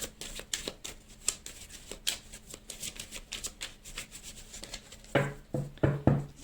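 Deck of oracle cards being shuffled and cut by hand, a steady run of quick soft riffling pats, close and quiet, ending with a few sharper taps as the deck is split.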